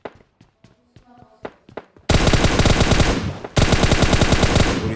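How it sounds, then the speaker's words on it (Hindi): Continuous automatic gunfire in a battle royale video game, sparse shots at first, then a loud, dense burst of rapid fire that runs on almost without pause with heavy impacts. "तो सामने से लगातार फायरिंग की आवाज़ आ रही थी"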